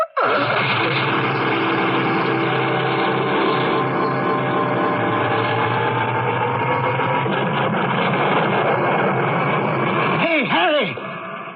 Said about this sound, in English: The tea machine's on.